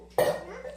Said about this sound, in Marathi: आता आम्ही घासलेली भांडी डबल घासते परत